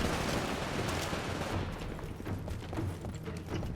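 Smart pistol shots in Titanfall amid a dense battle, rapid cracks over continuous loud gunfire and explosions.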